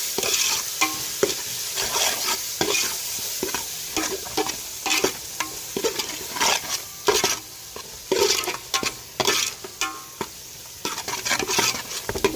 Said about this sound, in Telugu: గ్రేవీ అయితే మనకి బాగా ఉడుకుతుంది కదా.